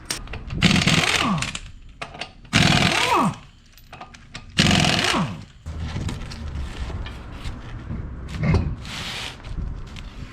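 A power tool buzzes in several sharp bursts, whirring up and down in pitch, as wheel bolts come off a Ford 7.3L Powerstroke diesel truck, with quieter clattering between the bursts.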